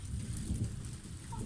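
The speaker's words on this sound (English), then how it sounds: "It's really raining heavily now." Heavy rain pours steadily through a thunderstorm around noon, a dense low rumbling wash of downpour that stays close and loud for the whole stretch, with no voices over it.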